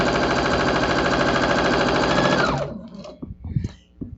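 Sewing machine running a quarter-inch seam across quilt strips, a loud steady mechanical whir for about two and a half seconds that winds down and stops, followed by soft fabric handling sounds.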